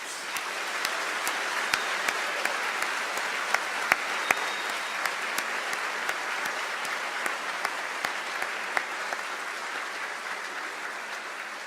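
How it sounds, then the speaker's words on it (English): Steady, sustained applause from a large convocation audience honoring graduating atmospheric and geographic sciences students, a dense wash of many hands clapping evenly throughout with a few sharper claps standing out. "Please join me in a round of applause for these students."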